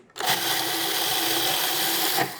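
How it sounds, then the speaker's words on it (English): A food processor grinding almonds, starting abruptly and running as a loud, steady whirring motor with a gritty chopping texture for about two seconds before stopping. "When you're grinding almonds or any kind of nuts, make sure that your blade of your food processor is sharp."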